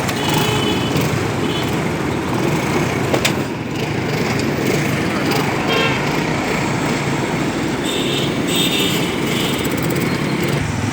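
A motorcycle engine running steadily after being started, a dense buzzing idle that holds constant throughout.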